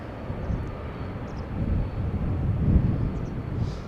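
An airliner climbing steeply after takeoff from Amsterdam Schiphol sends back a low, rumbling roar that swells and fades in gusts, with some wind buffeting the microphone and no talk.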